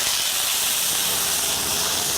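Flank steak sears in a very hot pan, giving a steady, loud, broadband sizzle and hiss that holds evenly for about two seconds with no talk over it.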